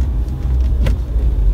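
A car engine holds a low, steady rumble under engine braking while descending in second gear, heard from inside the vehicle with one brief knock partway through.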